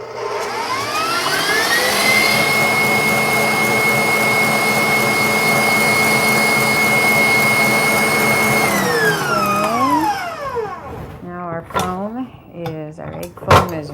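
Electric mixer whipping eggs into foam for a chocolate truffle torte; a loud, steady motor whine holds high and even, then drops in pitch as it winds down and stops, followed by clattering and brief handling noises.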